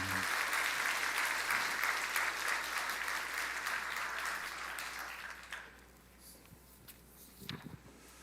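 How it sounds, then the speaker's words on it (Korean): Church congregation applauding a child's infant baptism, a dense, steady clapping that fades out after about five seconds and leaves quiet room noise with a few faint knocks. "축하의 박수를 한번 해주시죠."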